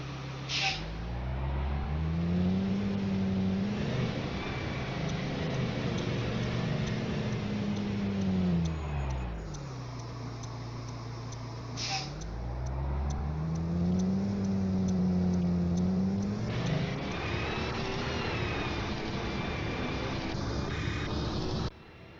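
A 2020 Blue Bird Vision school bus in the Rigs of Rods video game drives along, its engine droning steadily and rising and falling in pitch through repeated accelerations and gear shifts, loud and continuous with no talk.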